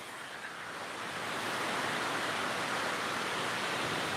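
Water rushes steadily over the Lake Lemon spillway near Nashville, Indiana, a loud, continuous broadband roar that swells slightly after the first second and holds on without any voices.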